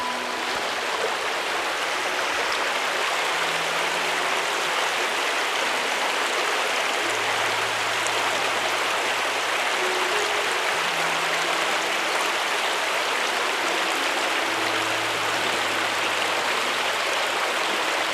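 A fast-flowing creek rushes down a steep slope on Crown Land, giving a steady, dense, close roar of churning water that continues alone without a break.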